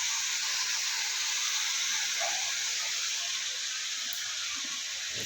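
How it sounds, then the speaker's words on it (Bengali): Potatoes fry in a pan with turmeric and salt, giving off a steady, close hiss of sizzling oil with no pauses and no voices. "বকুলি আলু ভাজা হচ্ছে"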